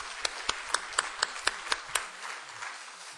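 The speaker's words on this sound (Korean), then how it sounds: "우리 박수로 환영해 드립시다" A church congregation claps to welcome a new member with about eight evenly spaced, unison claps in a steady rhythm, then quieter scattered clapping fades away.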